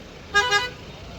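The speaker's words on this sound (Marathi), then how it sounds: "ट्रॅफिक जाम आहे पुढं।" A car horn gives two quick toots in a short double blast amid a low traffic hum, set in a jammed road near a bus stop.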